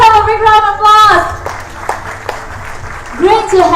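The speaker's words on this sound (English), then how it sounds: "give yourself a big round of applause" Audience applause at a property sales technique seminar, a burst of clapping rising between stretches of a speaker's voice, with talk before and after.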